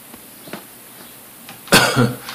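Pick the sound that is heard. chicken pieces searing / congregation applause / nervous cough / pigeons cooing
nervous cough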